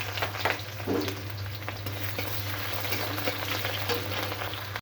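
Chopped onion and green chili hitting hot oil in a home kitchen pan, a steady close sizzle and crackle with a low constant hum underneath, continuing evenly throughout without any voices.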